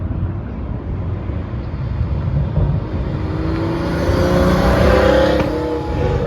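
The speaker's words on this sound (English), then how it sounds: "Here comes the Pagani." A Pagani hypercar drives past at a car show, its engine swelling from a steady rumble into a louder revving pass that builds toward the end, heard at close range.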